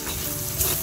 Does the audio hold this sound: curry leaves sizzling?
yes